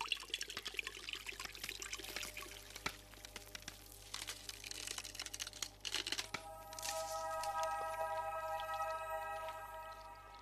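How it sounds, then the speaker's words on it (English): Water pours onto a freshly planted seed in the Magic Leap game Seedling, a soft trickling and splashing at close range, followed by a bright, sustained chiming tone as the pour ends. "just pour some water on top of where you planted the seed and let's see what happens"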